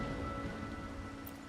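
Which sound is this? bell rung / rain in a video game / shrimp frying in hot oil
rain in a video game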